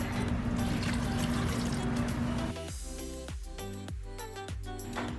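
Water pours steadily into a blender for a couple of seconds, then a few short splashes and dribbles follow as the pour stops and starts.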